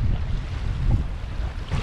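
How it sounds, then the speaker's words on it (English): Strong wind buffets the microphone beside cold Lake Tahoe water, giving a loud, steady roar of low rumble with churning waves beneath and no voices. "You can hear how windy it is"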